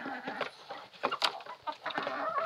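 Chickens cluck in a farmyard coop, a run of short, overlapping clucks and calls at moderate distance that keeps going throughout with no talking.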